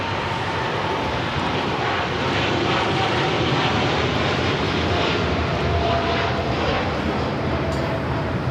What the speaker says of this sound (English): Lufthansa Queen rolling down